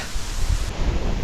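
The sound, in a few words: strong wind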